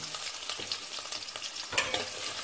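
Curry leaves and dried red chilies crackle and fry in a pan for country chicken curry, a soft, steady close sizzle with a few light stirring scrapes and one sharper clink.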